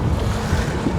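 Rough Pacific Ocean water churns and slaps around a small fishing boat, a dense low rumbling wash with wind buffeting the microphone, steady and loud through a brief moment.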